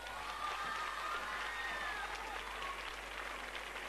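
An audience at an outdoor song festival applauds a first contestant, sustained clapping mixed with some cheering and crowd noise, fairly even in loudness from start to finish.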